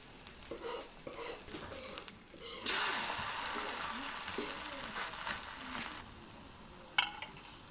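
Pancake batter frying in hot oil in a home kitchen gives a broad, steady sizzle that swells for a few seconds, then fades back to quieter crackling, with a sharp clink near the end.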